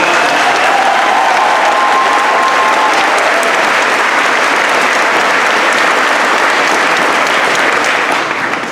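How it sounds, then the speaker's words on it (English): Applause from a large audience at a high school graduation ceremony in 2017, a dense, steady roar of clapping filling the room for the full length, loud and close, with no speech over it. "How about a round of applause?"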